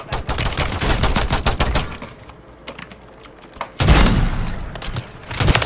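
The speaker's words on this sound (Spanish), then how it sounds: "Me están disparando." Gunfire in Call of Duty Warzone, loud rapid bursts of automatic shots crackling close by, a brief lull in the middle, then more heavy bursts resuming toward the end.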